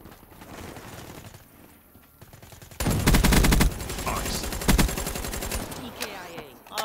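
Gunfire in the shooter game Call of Duty: Black Ops 3: a sudden loud burst of rapid shots, followed by further scattered firing and game effects, with a voice faintly present.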